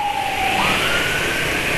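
An ambulance siren from a convoy carrying COVID patients wails loud and close, its tone sliding steadily upward and then holding high and alone.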